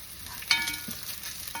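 Spoon stirring bacon and spinach risotto in a pan, soft scraping and gentle sizzle with one sharper clink near the start, quiet and close.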